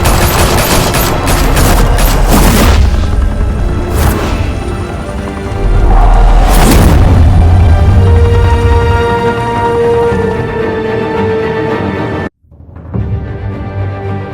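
Loud gunfire bursts and heavy explosions from a Batman: The Telltale Series gunfight in Gotham, with rapid volleys and booming blasts for about twelve seconds before a sudden cut to a quieter scene.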